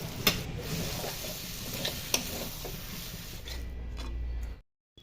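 Fried potatoes tipped into a pan of cauliflower curry with peas and spices, giving a steady low sizzle with a few sharp clicks of utensil against the pan, close by, before the sound cuts off abruptly.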